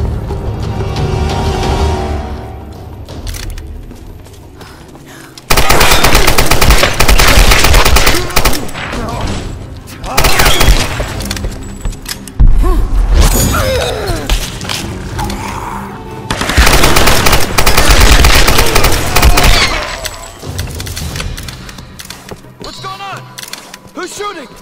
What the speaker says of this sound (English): We're shooting! Take cover!